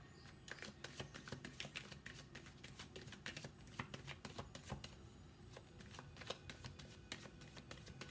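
Tarot cards are shuffled and drawn in a fast, steady flurry of crisp riffling and slapping clicks, close up and continuous throughout, with no talking.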